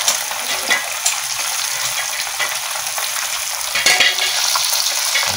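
Boneless dried tilapia (daing) fries in a pan with a loud, continuous, crackling sizzle and occasional stirring scrapes, close up and with no talking.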